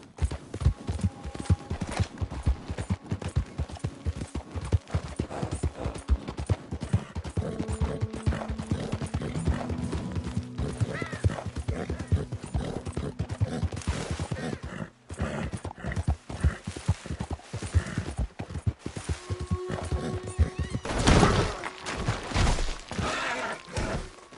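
Horse hooves clip-clopping in the Red Dead Redemption 2 video game, a steady rhythmic trot of close hoofbeats running throughout, with a brief whinny and a few sharp game effects layered over it.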